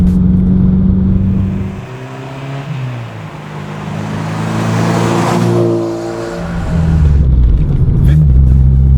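A supercharged Honda Civic Type R engine revs hard and pulls up through the range in fifth gear, pitch climbing steadily, loud and close, with a brief drop before surging again.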